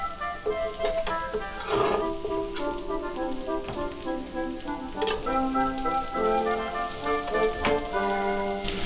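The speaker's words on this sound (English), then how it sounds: "Now I'm just going to saute these in butter, a little bit of salt for a few minutes" Vegetables sauteing in butter with a pinch of salt in a pan over medium heat, giving a steady crackling sizzle with occasional clinks of a utensil stirring, close and continuous.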